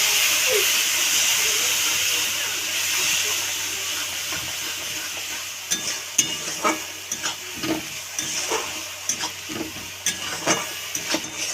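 Turmeric spice paste fries in a pan with a splash of water, a steady steamy hiss giving way to repeated scraping stir strokes in an uneven rhythm, close and fairly loud.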